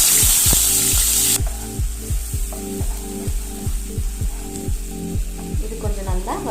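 Ground onion paste sautéing in hot oil with spices for mutton liver masala, a loud steady sizzle with a rhythmic series of utensil scrapes and taps against the pan, repeating about every half second.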